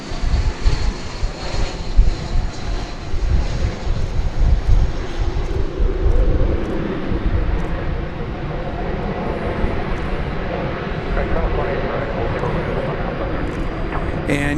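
An Alaska Airlines Boeing 737-9 jet airliner takes off at DFW Airport, a broad steady engine roar heard from a distance with wind on the microphone throughout.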